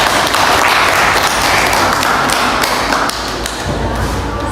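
A classroom of students claps together during a lesson, a dense, steady patter of many hands that keeps going throughout and drops a little in loudness partway through.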